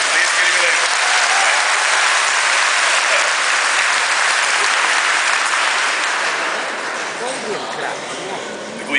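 A live audience applauds a singer's debut performance, loud continuous clapping from a large crowd that holds strong and tapers slightly near the end, with cheering voices mixed in.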